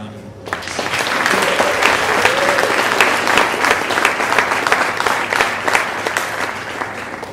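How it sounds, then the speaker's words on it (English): An audience at a talk bursts into loud, sustained applause that swells within the first second and carries on steadily for several seconds before slowly thinning, with a faint voice beneath at the start. "Let's give Jaynanne another round of applause."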